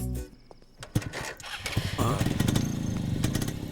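A motorcycle engine runs close by, its steady rumble rising after a few knocks and thuds and holding on under a busy film soundtrack with voices.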